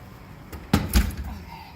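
Oven door shutting in a home kitchen as crescent rolls go back in to bake: a quick clunk, then a heavier thump a moment later, with a little faint rattle afterward.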